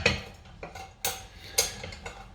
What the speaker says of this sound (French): on referme le couvercle et je pose